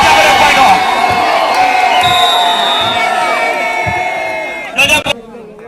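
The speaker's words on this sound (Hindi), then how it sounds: "जोरदार ताली है बुढ़श्याम की टीम के लिए" Crowd cheering and shouting for the winning team at a village kabaddi match, a loud, sustained roar of voices and whoops that fades slightly before a final burst, with a commentator's voice underneath.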